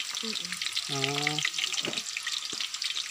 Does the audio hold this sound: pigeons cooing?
no